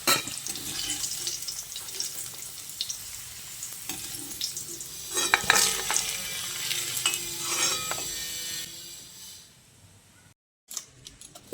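Fried taro pieces are lifted out of hot oil with a utensil, a busy sizzle with scraping and clinks that peaks midway, then fades before a short break and a final clatter.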